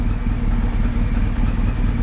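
A BMW R 1200GS motorcycle engine idles with a steady, dense, low mechanical rumble and light clatter, close and continuous throughout, with no talking.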